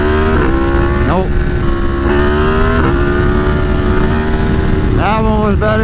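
A Yamaha MT10 motorcycle engine revs hard during wheelie practice, loud and close, holding a high drone and then climbing and dropping in pitch through repeated throttle blips.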